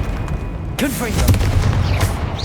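A fiery blasting spell explodes in a Hogwarts Legacy battle, a sudden broadband burst followed by crackling, roiling blast noise amid chaotic game combat sounds and some voice.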